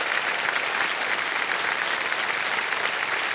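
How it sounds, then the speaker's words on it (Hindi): Studio audience applause on the quiz show Kaun Banega Crorepati, an even, sustained roar of many hands clapping at steady loudness throughout. "चेक आ रहा है, ताली बज जानी चाहिए इनके लिए।"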